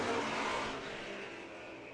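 Street stock race cars at Owosso Speedway roar off together at the green flag start, a loud dense engine surge that eases slightly as the pack pulls away.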